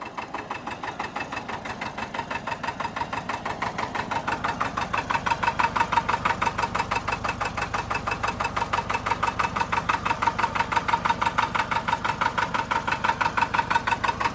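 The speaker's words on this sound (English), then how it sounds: "I don't know the RPM range. It doesn't have a tach." A Porsche Diesel Standard tractor engine idles nearby with a steady, even chugging pulse. The knocking diesel rhythm holds throughout and rises slightly in loudness partway through.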